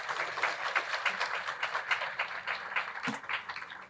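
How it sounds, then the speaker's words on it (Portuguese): An audience at a partner-organizations panel gives warm applause, a steady wash of many hands clapping at moderate distance for several seconds with no speech over it. "E certamente merecem mais uma calorosa salva de palmas."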